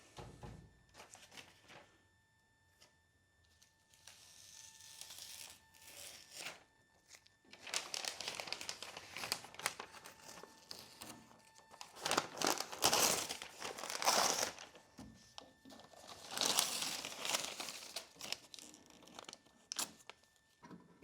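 Paper being crinkled and pulled while a Porsche 356 is assembled, with loud bursts of crumpling and tearing in separate rushes after a quiet start, heard close up and without talk.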